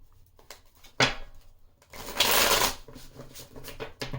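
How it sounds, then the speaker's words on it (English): Tarot cards are shuffled with quick riffling bursts, a sharp snap, then a longer flurry of papery shuffling, close and fairly loud. "Okay, so let's shuffle for that now."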